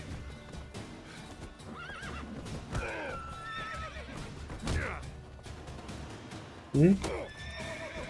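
Roach, the horse in The Witcher 3, neighs and snorts several times with clip-clopping hooves, ending in a loud whinny, while a man briefly murmurs.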